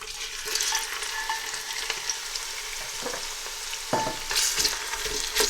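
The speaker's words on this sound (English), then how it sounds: "So it's sizzling away now, so I'm just going to add the entire onion" Onions frying and sizzling in a pan while palak paneer is being made, a steady crackle of frying with brief stirring clatters and a louder burst near the end, close and alone.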